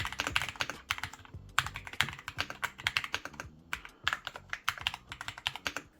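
Typing on a Kzzi K68 Pro mechanical keyboard: a close, brisk run of crisp clacking keystrokes in uneven bursts with short pauses, heard alone without any voices.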